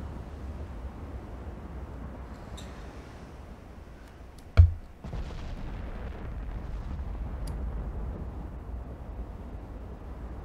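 Heavy battleship guns fire in the naval game Ultimate Admiral Dreadnoughts, a single sharp boom about midway that rolls out over a steady low rumble of sea and engine noise.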